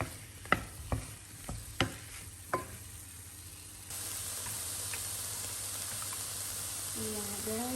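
Mushrooms frying in a pan for a chicken stir-fry, first a few sharp knocks of a spatula stirring, then a steady louder sizzle, with faint voices in the background.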